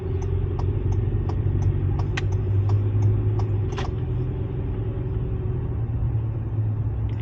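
A car drives around a small Idaho town with old brick buildings, a close steady engine and road rumble from inside, with a few faint clicks early on.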